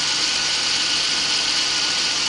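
The 3.0 liter engine of a 1989 Oldsmobile Cutlass Supreme runs at a steady, even idle, a close continuous hum and hiss with no voices.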